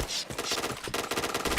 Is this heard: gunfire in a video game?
yes